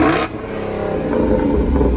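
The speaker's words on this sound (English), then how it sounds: "So kick it in the guts again, those exhaust sounds." A Jeep Rubicon serving as a Knoxville Raceway pace vehicle revs hard, its engine roar and exhaust note rising loud and close after a brief sharp opening burst, with no talk over it.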